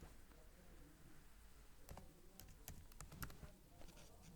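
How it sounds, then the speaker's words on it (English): Faint, scattered key clicks on a computer keyboard as a project name is typed into Protastructure structural design software. The taps come in short irregular runs against quiet room noise. "So I will now type my project name"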